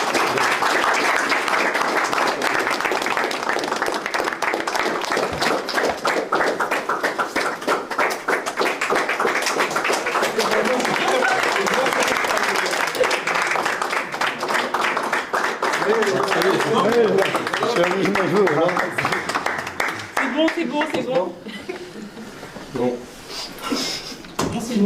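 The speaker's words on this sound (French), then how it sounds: "Applaudissements." Sustained crowd applause and clapping ring out in a villa during a farewell, with voices talking over it throughout before it fades into scattered sounds near the end.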